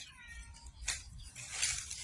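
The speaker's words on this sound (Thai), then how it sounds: "มีเสียงแมวด้วยหรอ" A cat meows somewhere in the room, a faint, brief pair of calls over low background rumble while food is being prepared and served.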